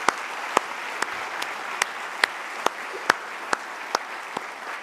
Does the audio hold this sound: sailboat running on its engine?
no